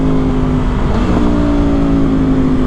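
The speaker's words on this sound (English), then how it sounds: "Those downshift sounds." Aprilia Tuono V4 Factory 1100 motorcycle engine running loud and close throughout, with a steady droning tone and a brief shift in pitch partway, consistent with downshifting; no speech.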